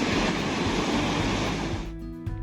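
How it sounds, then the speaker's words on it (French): Surf crashes on rocks at Peña del Viento near San Sebastián in the rain, a loud, broad roar of churning water that fades out near the end, leaving a low hum. "Les vagues viennent se fracasser sur les rochers."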